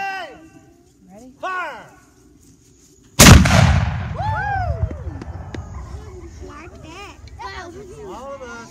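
A cannon fires a cannonball at Martin's Fort, a historic frontier fort at Wilderness Road State Park: one loud, close blast that rumbles and decays, following shouted firing commands, with voices and crowd sounds continuing afterward.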